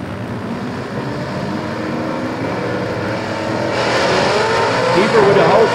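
Gasser-class drag racing cars launching down a drag strip at London, Kentucky, a loud sustained engine roar that swells and grows harsher as the cars pull away.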